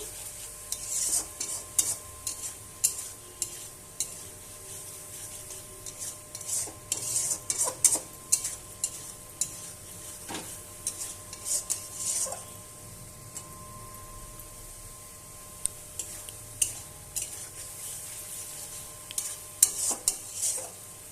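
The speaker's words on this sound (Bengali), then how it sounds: "ওপর থেকে গরম মশলা গুঁড়া দিয়ে দেব, দিয়ে ভালোভাবে নেড়ে নেব।" Spiced chhana potol curry stirred in a pan after garam masala goes in, with repeated scraping and clinking of a utensil against the pan over a soft sizzle, no talking.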